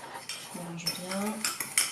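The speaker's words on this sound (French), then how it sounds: "Je mélange bien." A metal utensil stirs homemade vanilla sugar in a bowl, producing close, scraping clinks and light tapping against the dish in quick succession, moderately loud with brief ringing tones.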